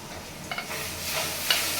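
Ginger, garlic and onion paste fries with small hilsa and taro in a pan, a close steady sizzle with a couple of light stirring scrapes and clicks over a short stretch.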